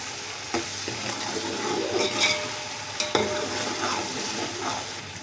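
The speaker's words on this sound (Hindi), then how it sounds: "अब इसको अच्छी तरीके से मिक्स करेंगे तकरीबन 2 से 3 मिनट तक" Curry leaves, tomatoes and spices stirred and fried in a pan while cooking potato tahari, a steady sizzle with scraping spoon strokes and a few sharper clinks against the pan, close and continuous.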